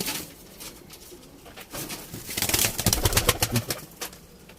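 Pigeons and young squabs in a loft, low throaty cooing that swells in the middle of the clip, close by, over a faint rustling background.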